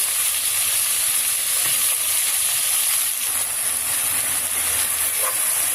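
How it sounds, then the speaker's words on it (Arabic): Pieces of beef sear in a pot over high heat for a Saudi kabsa, giving a loud, steady sizzle and hiss that continues without a break, close up and with no voices. "واللحمه على نار عاليه عشان ما تجيبش ميه معاكي"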